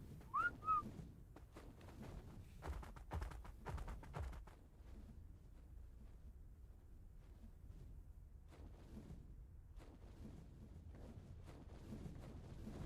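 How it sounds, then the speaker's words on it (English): A short whistle command to tamed creatures in the video game Ark sounds as two quick rising tones at the start, followed by faint scattered clicks and thumps over a quiet background. "Now what we're gonna do is we're gonna whistle them all to aggressive."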